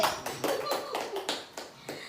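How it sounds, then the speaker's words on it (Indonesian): Rhythmic hand clapping from a group at an indoor training session, about six even claps over two seconds, moderately loud and clear. "Nah, tepuk tangan lagi."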